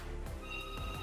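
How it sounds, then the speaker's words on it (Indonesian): A telephone rings faintly with a short electronic tone that repeats once, somewhat distant and with no talk over it. "Bentar telepon."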